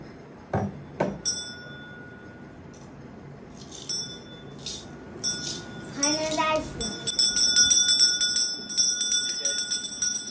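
Small bell rung in a few bright rings, sparse at first and then faster and repeated toward the end, close and clear, with a voice and other speech around it.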